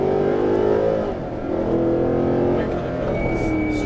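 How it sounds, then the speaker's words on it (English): Mercedes-Benz SLS AMG on a track in Las Vegas, its engine droning steadily under throttle with rising harmonic tones, a brief dip near the middle suggesting an upshift before pulling on again, close and loud throughout. "squeeze throttle, and upshift"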